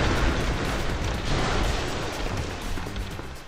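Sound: bombs exploding in video game City Smash

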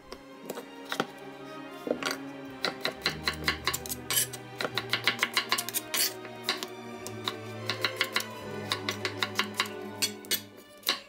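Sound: knife cutting potatoes into small pieces

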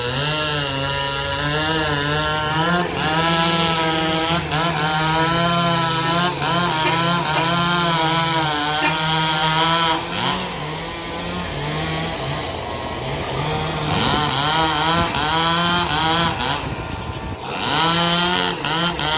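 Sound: chainsaw cutting a tree trunk

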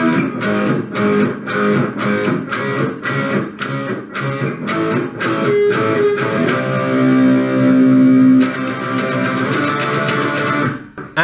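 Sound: electric guitar playing a song's pre-chorus

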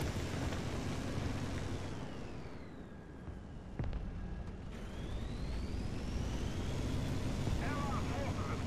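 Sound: enemy jet aircraft engine noise in War Thunder video game

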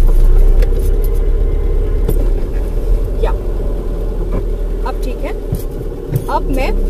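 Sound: car engine as the driver shifts into reverse gear

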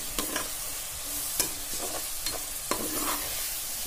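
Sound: sautéing ground onion and tomato paste for mutton kurma

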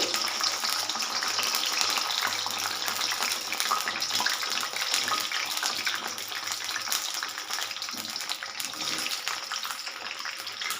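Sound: okra frying in oil

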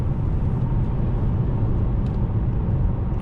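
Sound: Opel Insignia 1.6 turbo engine at high revs

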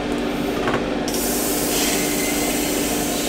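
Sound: Iwata Custom Micron airbrush spraying

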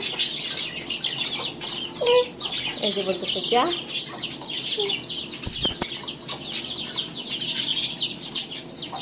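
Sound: chickens clucking, local desi hens

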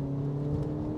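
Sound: 2022 Volkswagen Polo GTI engine noise accelerating

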